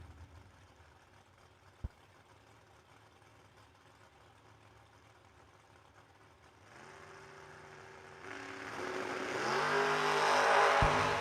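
Drag race launch between a family pickup truck and a Ford Mustang at a New Year Nationals drag strip, engines rising from a faint rumble to a loud, building roar of accelerating motors over the last few seconds.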